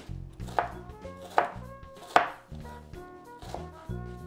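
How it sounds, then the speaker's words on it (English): A knife dices red onions on a cutting board: about five crisp, close chops at an uneven, unhurried pace, each with a short woody knock. "So I'm literally just dicing the onions up."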